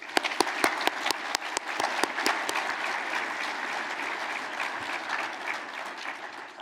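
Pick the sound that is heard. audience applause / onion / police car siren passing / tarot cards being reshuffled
audience applause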